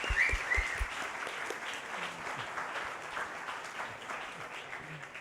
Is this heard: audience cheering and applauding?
yes